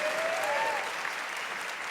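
A congregation claps during a church sermon, a dense, sustained patter from a large crowd heard at moderate distance that eases slightly toward the end, with a brief vocal tone at the start.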